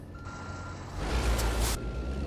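Heavy truck reversing in American Truck Simulator on the way into Tacoma, Washington, with steady electronic reversing beeps over a low diesel rumble that grows louder partway through, with a short air-brake hiss and no talk.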